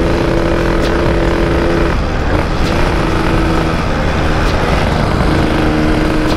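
A Yamaha RX-King two-stroke motorcycle engine heard while riding on the road, a loud, rough, constant engine drone with wind noise and a slight change in tone partway through.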